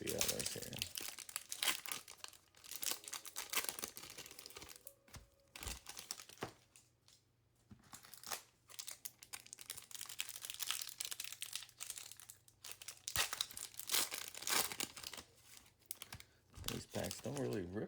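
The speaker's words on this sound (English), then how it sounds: "These packs don't really rip along the seam all that well." 1991 Leaf Studio baseball card packs are torn open, with crinkly wrapper crumpling and ripping in bursts up close, broken by quieter pauses while someone talks between them.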